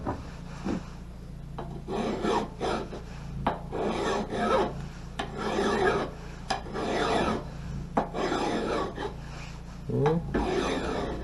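A metal file rasps along an axe blade in steady back-and-forth strokes, close and fairly loud, with a few short pauses between passes and a brief spoken word partway through.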